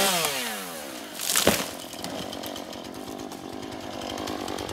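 Saw biting into a tree trunk outdoors, a loud chainsaw-like rasp with a rising whine early on, then steady buzzing cutting that continues without pause.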